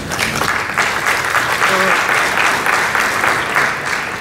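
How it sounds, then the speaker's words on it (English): Conference audience at the 2019 WCGTC World Conference applauding a keynote, a full, sustained burst of clapping from a large hall lasting several seconds, with a voice briefly audible beneath the applause. "Your claps are surprising me."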